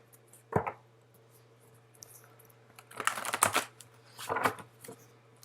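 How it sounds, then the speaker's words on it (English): Tarot cards being shuffled by hand up close, a quick riffle followed after a pause by two longer clusters of papery flicks and slaps, with quiet gaps between them. "Sorry if that's like loud shuffling"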